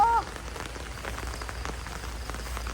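Rain falling steadily in a rural Thai field setting, a continuous broadband patter of drops holding at an even level throughout, with a brief faint tone at the very start.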